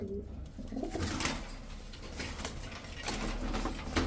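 Fancy pigeons (Pakistani teddy, Damascene, racer and Giribaz breeds) at a sale coo softly and repeatedly over a steady rustling, noisy background, with no one speaking.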